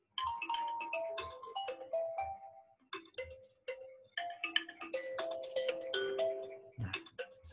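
A phone rings with a repeating melodic ringtone, a bright sequence of tones in bursts with short gaps, moderately loud and alone with no talk.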